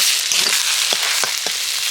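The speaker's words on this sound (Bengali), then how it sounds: "ডিমটাকেও আমি সবজির সাথে ভেজে নেব" Egg frying together with vegetables in a pan, a steady broadband sizzle with a few soft stirring scrapes, close and loud, no voices.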